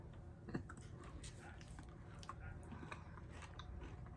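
Someone bites into and chews a Hershey's Symphony candy bar, a crisp bite near the start followed by soft, close, quiet chewing at low level.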